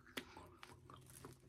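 Biting into crunchy Haribo blackberry gummy candy: a sharp crisp bite, then a few softer crunching chews close to the mic, short and quiet.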